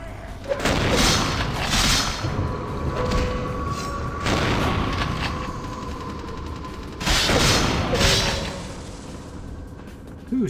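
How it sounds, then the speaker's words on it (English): Shotgun blasts in the video game Vampire: The Masquerade – Bloodlines, several loud booming shots spaced a few seconds apart over a busy background of game noise, with some talking mixed in. "Who shoot me with a shotgun?"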